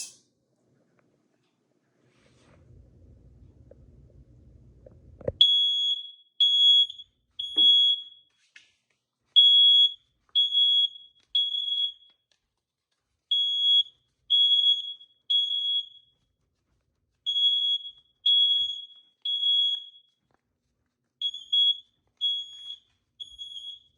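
Household smoke/CO alarm sounding during a full-house inspection test, giving a loud, repeated high-pitched beeping in regular groups of three after a brief low rumble with handling noise.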